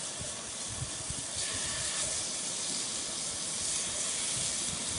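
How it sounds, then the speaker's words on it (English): Continuous loud hissing sizzle of fish frying in a hot pan, crackling steadily throughout with no voices. "You want to hear that sizzle. If you're not hearing that, your pan ain't hot."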